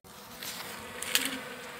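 Bees buzz at a hive kept in the Brazilian sertão, a dense, continuous droning hum with individual insects passing close to the microphone. No one speaks.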